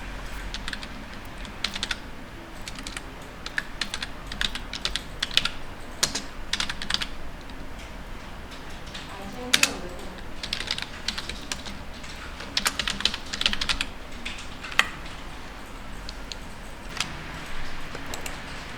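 Fast, steady typing on a computer keyboard with a dense run of close key clicks and occasional louder keystrokes, continuing without any talking.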